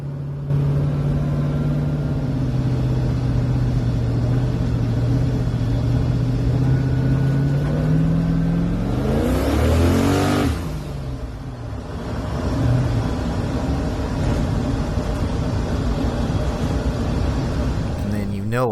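Turbocharged LS-swapped Ford Foxbody Mustang on sticky tires pulling hard on a street run, a loud steady engine drone that climbs in pitch around mid-clip, then drops and continues droning nearby.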